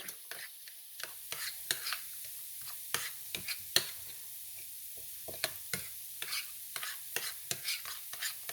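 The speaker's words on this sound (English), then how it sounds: "Let me stir this seasoning in here." Seasoning being stirred into a keto tuna casserole mixture in a bowl, a series of soft irregular scraping and tapping strokes, quiet and close with no other sounds.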